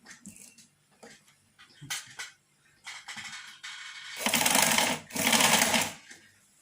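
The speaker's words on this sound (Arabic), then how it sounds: "وغنبدا نخيط بحال هكا باش ما يتحل ما والو" A sewing machine stitches fabric for a cushion, starting with light clicks and short runs, then two longer, louder bursts of fast needle rattle close by.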